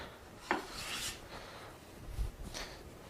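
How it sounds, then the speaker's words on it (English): A hand plane takes thin shavings off a wooden board to remove mill marks, giving a few soft, close rasping strokes at a faint level. "And now I'm getting really nice thin shavings."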